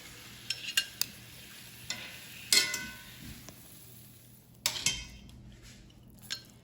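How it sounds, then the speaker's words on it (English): Browned food being scraped and spooned from a pan into a crock pot, with a few sharp metallic clinks and scrapes spaced apart over a quiet kitchen background and a faint sizzle. "we're gonna take this and we're gonna put it in our crock pot"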